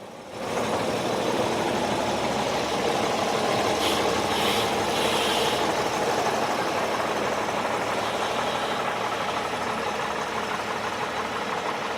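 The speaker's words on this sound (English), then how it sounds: "This 1969 Bristol RE coach bearing a Crosville livery sets out now." A 1969 Bristol RE coach in Crosville livery pulls away at a bus festival, its rear-mounted diesel engine a steady, loud, close rumble that holds throughout with no talk.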